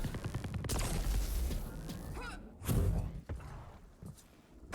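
Shotgun blasts in a Quake-style arena shooter match ring out as several sharp, heavy bursts amid the clatter of footsteps and other game effects, with faint commentary voices underneath.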